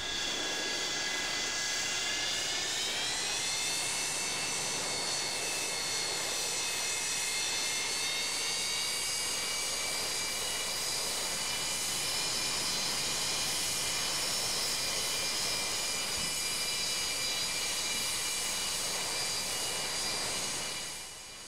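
Boeing 727 jet engines in Microsoft Flight Simulator X spool up to a loud, steady roar with a rising high whine, holding strong and even for about twenty seconds before easing slightly at the end.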